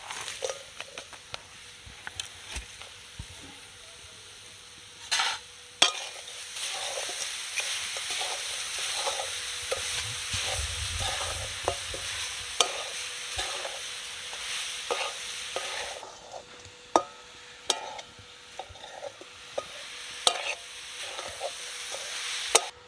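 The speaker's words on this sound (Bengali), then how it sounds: "তার জন্য কড়াইতে দিয়ে দেব পুরানো নারকেল" Grated coconut and palm jaggery cook in a wok, soft sizzling under a long run of rhythmic spatula scrapes and taps as the filling is stirred, close but fairly quiet.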